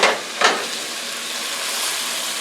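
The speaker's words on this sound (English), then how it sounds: "our steak has been cooking for about, I'd say 7 minutes" Steak coated with turmeric sizzles steadily in a hot pan, a close broadband hiss with two short sharper crackles near the start, then a constant frying sizzle and no talk.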